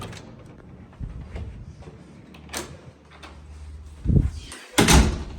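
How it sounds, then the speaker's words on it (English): A hotel room door on a top-floor hallway at an Aloft in downtown Asheville, North Carolina, makes several soft clicks and knocks, then a firm latch and a second heavier thud as it shuts, fairly close with no talking. "Door closes"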